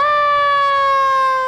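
A loud, close siren from a fire truck or police car in a Fourth of July parade holds one steady, bright wailing tone with strong harmonics and fades slightly at the end.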